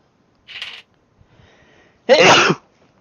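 A single loud, sharp sneeze, preceded by a brief softer breathy sound.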